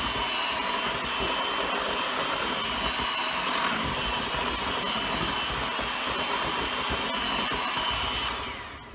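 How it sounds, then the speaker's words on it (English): Electric hand mixer beating apple cake batter, a steady, continuous whirring motor hum running at even loudness for about eight seconds before trailing off at the end. "We're going to mix until it's smooth with no lumps."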